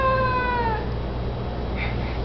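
A cat meows in a single drawn-out, descending cry at close range, followed by a faint second sound amid low background hum.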